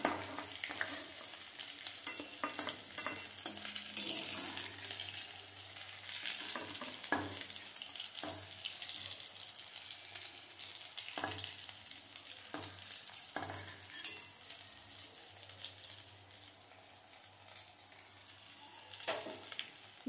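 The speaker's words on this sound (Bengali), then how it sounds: "বাকি ফুলকপিগুলো ভেজে নেব।" Cauliflower florets frying in oil give a continuous close sizzle with scattered sharp pops and spatters throughout, steady and fairly quiet, with no voices.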